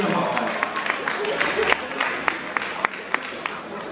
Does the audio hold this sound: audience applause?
yes